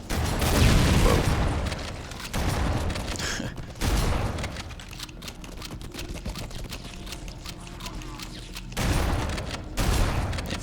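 Gunfire and grenade explosions in Halo CE Anniversary, dense bursts of shots and booms with mechanical game effects, loud and constant, with a voice talking over parts.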